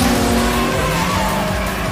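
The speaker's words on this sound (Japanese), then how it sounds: "ものすげえブレーキングドリフト。" A Toyota 86 brake-drifts down the Akina mountain pass, its tires squealing in a long sustained howl over a loud, steady engine drone, close and intense.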